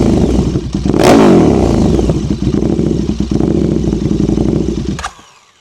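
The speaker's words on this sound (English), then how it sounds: "we're gonna give it some good revs" A KTM 1290 Duke motorcycle engine with a new catalytic converter and mid pipe revs hard and loud, climbing in pitch with a sharp rev near the start, running rough and steady before cutting off abruptly at the end.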